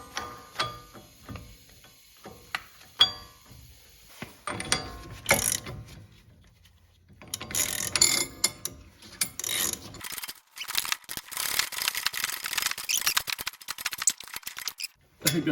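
Nut tightened onto the threaded rod of a wheel bearing race pulling tool in a home garage. It comes through as close metallic ratcheting and rubbing in uneven bursts, with stretches of quiet between them and a voice talking at times.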